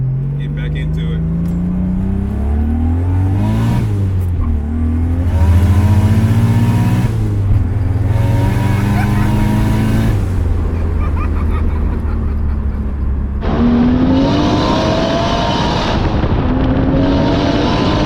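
A Lexus LS400 with a swapped-in 1JZ engine and boost revs hard while drifting sideways, its loud, rising and falling engine note filling the whole stretch, with sharper high-rev surges near the end.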